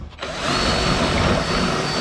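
A power drill whirs up to speed after a brief start and runs steadily and close at full speed, widening an axle hole in a Lifetime Yukon fishing kayak.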